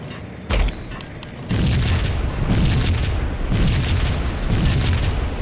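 A heavy explosion in the video game Max Payne, with a sharp initial blast followed by a second louder boom and a sustained roaring, rumbling aftermath.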